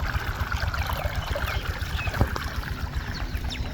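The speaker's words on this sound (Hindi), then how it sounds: "ये देखें बड़े ही प्यारे अंदाज में पानी हमारी ज़मीन में जा रहा है।" Irrigation water running into a farm field in a village, a steady low rushing flow with light trickling and splashing throughout, close and continuous with no voices.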